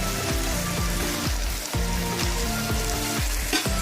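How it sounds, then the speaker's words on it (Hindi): Ginger garlic paste frying in a pan with potatoes and chicken for a macaroni dish, giving a loud, continuous sizzle with a few stirring knocks and no talking. "इसको अब हम अच्छे तरीके से इसके अंदर भून लेंगे।"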